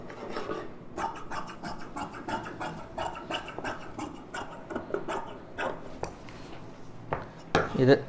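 Scissors cut fabric for a baby lining frock, a steady run of short rasping snips close by, with a voice talking briefly near the end.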